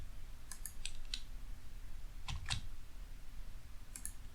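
A computer keyboard clicks in short bursts during a Kerbal Space Program session, with light scattered keystrokes and a heavier double press near the middle, close and fairly quiet.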